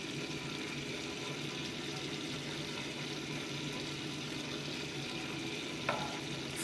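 Butter simmers steadily in a pan as clarified butter ghee cooks, producing a continuous soft sizzle and bubbling hiss throughout, with one small clink near the end.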